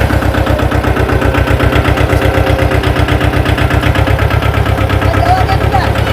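A tractor engine runs steadily close by, its low rhythmic chugging loud and continuous throughout, with some voices underneath.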